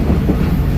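Passenger train on the southern line from Trang to Bangkok, running with a steady loud rumble and low rolling wheel noise, heard from inside without voices.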